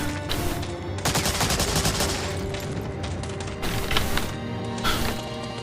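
Rapid bursts of video game gunfire from the shooter Blade of Agony, dense overlapping shots with heavier volleys starting around one, four and five seconds, steady and loud throughout with no talking.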